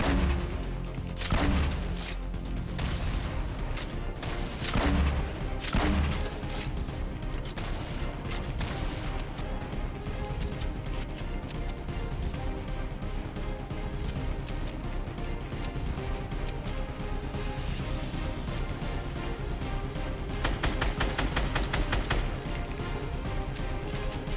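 Constant gunfire in a Fortnite Battle Royale fight. Rapid volleys and bursts of shots crackle without pause for the whole stretch, dense and loud, with no speech over them.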